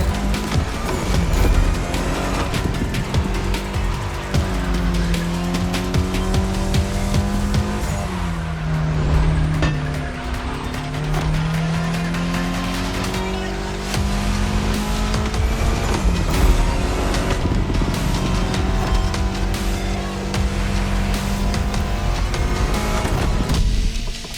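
A Mitsubishi Evo X race car in The Crew Motorfest roars loud and close, its engine note climbing and dropping through gear changes, with bursts of tire squeal and no voices throughout.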